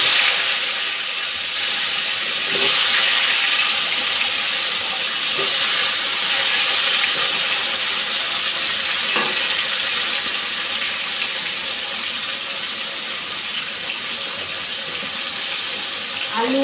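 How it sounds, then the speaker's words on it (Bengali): Potatoes frying in a pan for a catfish curry give off a steady, close hiss that holds evenly throughout, with a few faint clinks. "আলুটা ভাজতে দিয়ে দিচ্ছি।"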